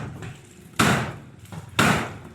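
Two sharp, loud hammer blows about a second apart strike a rusty corrugated roof over a street in Tondo, shaking loose falling rust, with quieter clatter and street noise in between.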